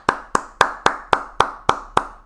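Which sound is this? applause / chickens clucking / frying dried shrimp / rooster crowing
applause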